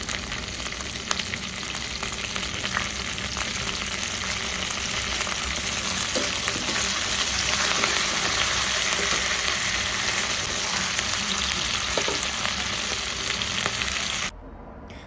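Onions and green chillies fry in a pan with curry leaves and mint for a paneer pulao, making a loud, continuous close-up sizzle with faint scattered crackles. The sound runs unbroken and then drops away abruptly at the very end, with no voices.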